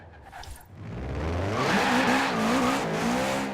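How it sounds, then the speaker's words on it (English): 2013 Subaru BRZ race build in Forza Horizon 4 launching with loud tire wheel spin, a rising squeal over the revving engine that holds strong to the end. "A little bit of wheel spin on the launch, it seems"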